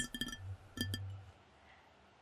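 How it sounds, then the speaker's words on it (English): Light, sharp taps on a glass: a quick cluster of clinks followed by two more, quiet and close, then stillness. "tapping on a glass"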